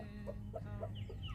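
Chickens clucking in a backyard chicken pen, several short rhythmic clucks in close succession over a steady low hum, fairly near and moderately loud, with no talking.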